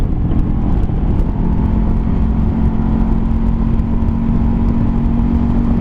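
Honda CBR 500R motorcycle engine while riding, a steady close drone with constant wind roar and no pauses.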